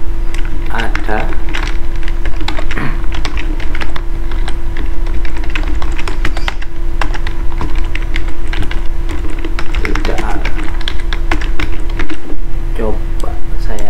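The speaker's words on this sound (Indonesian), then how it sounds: "Coba saya ketik" A computer keyboard typed on steadily and rapidly at close range, with dense clattering keystrokes and a constant electrical hum underneath; a voice speaks at times over it.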